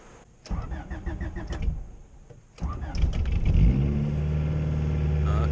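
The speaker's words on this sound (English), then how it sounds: "It's like 37 degrees, so give you guys a little cold start." A Honda Civic or Integra engine cold-starts on a chilly 37-degree day: a brief cranking whir after a short voice, then the engine catches with a loud rev and settles into a steady, close idle.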